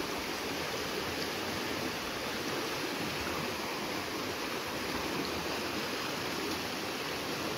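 Floodwater rushing toward the Lao River after a short spell of heavy rain, a steady, dense broadband roar of flowing water that holds constant and loud close by throughout, with no voices.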